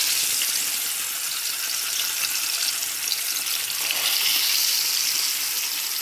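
Fish fries in hot oil in a home kitchen, giving a steady, close, loud crackling sizzle that fills all six seconds without pause, swelling slightly toward the end, with no voices over it.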